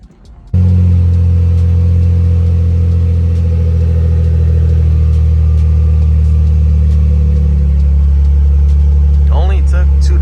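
A Ford Mustang engine starts with a quick turnover, then settles into a loud, steady, deep idle rumble that runs close by without a break, joined near the end by a brief voice.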